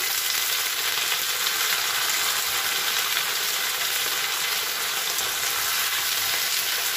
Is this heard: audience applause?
no